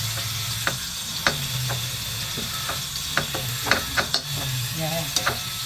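Onions fry in a pan with a steady background sizzle, broken by repeated sharp scrapes and knocks of a spatula stirring them, close and clear with no voices.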